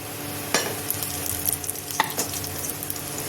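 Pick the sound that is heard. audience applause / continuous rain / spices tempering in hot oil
spices tempering in hot oil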